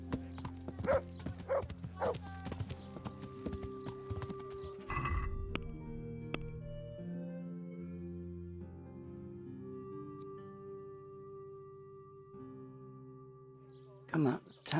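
Horse hooves clip-clop steadily on a road in the medieval video game Kingdom Come: Deliverance, a fast even gait at the start that fades under layered orchestral game music.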